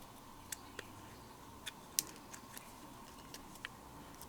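Paper cardstock being trimmed down for card making gives a string of small, sharp ticks and snips scattered irregularly, quiet and close over a steady low background hum, with no voices.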